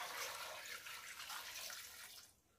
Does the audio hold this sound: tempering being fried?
no